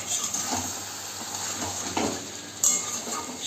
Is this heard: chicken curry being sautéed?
yes